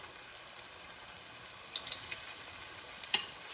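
Panfish frying in hot grease, a steady fine crackling sizzle with scattered small pops, close but fairly quiet, with no talking.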